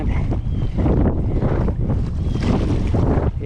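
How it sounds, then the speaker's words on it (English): Strong gusting wind roars across the microphone over choppy waves around an Old Town Sportsman 106 pedal kayak, loud buffeting in surges with water sloshing nearby. "Oh my, the wind picked up. I'm going to head on back. There's too much wind."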